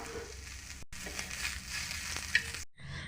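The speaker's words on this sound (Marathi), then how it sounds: "कांदा पण असा हलका लाल रंग तोपर्यंत भाजून घेतलेला आहे" Onion fries in a pan over a low gas flame, a soft steady sizzle broken by brief stirring scrapes, close and quiet with no voices.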